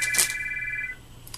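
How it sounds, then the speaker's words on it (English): A telephone rings with a short electronic trill lasting about a second, fairly clear over a quiet background with a faint click. "is the phone ringing"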